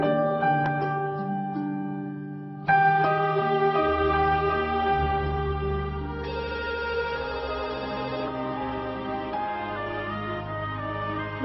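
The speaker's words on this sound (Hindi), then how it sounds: "भाई, फोन आ रहा है, कहीं मम्मा का ना हो।" A melodic electronic phone ringtone plays loudly and steadily, its tune shifting as layers of synth notes come in, with no talking over it.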